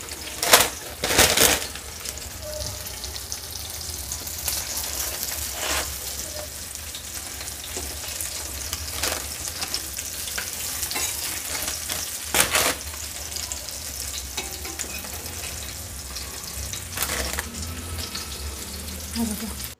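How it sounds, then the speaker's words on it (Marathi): Fish fries in a hot pan with a constant loud sizzle, punctuated by repeated sharp clatters and scrapes as the pieces are turned, close up, with no speech. "अशी उभी आडवी अशी जरा फ्राय करून घ्यायची. सगळीकडून ती फ्राय होते व्यवस्थित."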